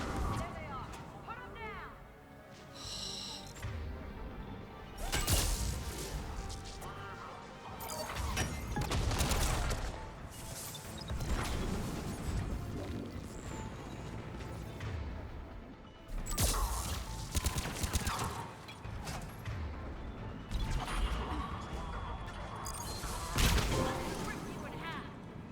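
Grenade explosions in Mass Effect 3 on Insanity difficulty, several loud blasts bursting through constant gunfire and battle noise, with someone shouting over the chaos.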